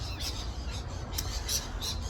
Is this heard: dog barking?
no